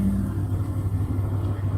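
A small truck's diesel engine idles close by with a steady low rattling rumble, continuous and loud, no voices over it.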